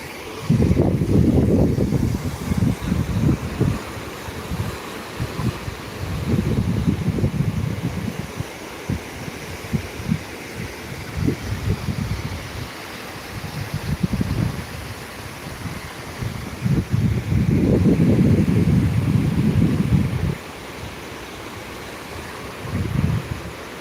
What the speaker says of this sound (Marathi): बघा पाण्याचा कसा आवाज येतोय